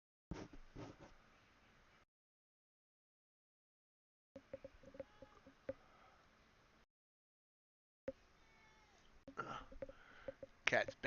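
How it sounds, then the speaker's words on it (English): A house cat meows in short, scattered cries across three separate stretches, close and fairly faint, with long gaps of silence between them. "Cat's begging for attention."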